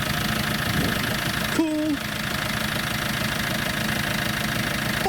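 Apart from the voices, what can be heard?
Fiat engine of an Iveco Daily van running after start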